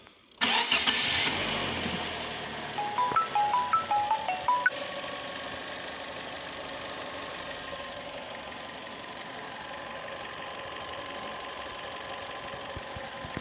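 A Fiat Grande Punto 1.2 8V petrol engine cranking with a short starter whine, then catching and settling into a steady close idle that runs on alone.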